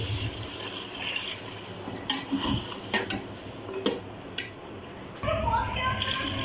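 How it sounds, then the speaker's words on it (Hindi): Water poured into a pot of bhindi gosht, a lady finger and beef stew, with clinks and scraping of a spoon stirring against the metal pot amid a steady wet rush. "ये अब इसमें पानी डाल दूँ।"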